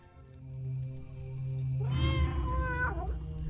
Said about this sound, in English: Apparently that's a cat.